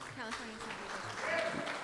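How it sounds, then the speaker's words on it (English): Applause from an audience at a candidates forum, light clapping that builds near the end as someone speaks over it. "So let's give a round of applause for Denise Adeguela Mendez,"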